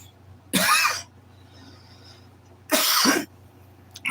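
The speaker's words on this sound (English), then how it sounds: "I thought coffee was supposed to make you not cough." Two separate harsh coughs from one person, close and loud, about two seconds apart in an otherwise quiet room, with a brief start of another at the very end.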